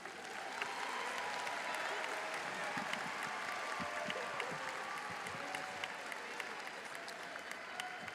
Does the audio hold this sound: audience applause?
yes